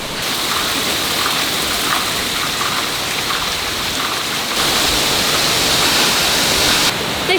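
Steady, loud rushing of water at a 300-kilowatt hydroelectric plant in Limerick, a dense continuous roar that swells slightly louder partway through, with no voices.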